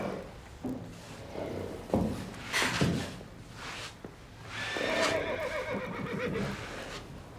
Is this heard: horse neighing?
yes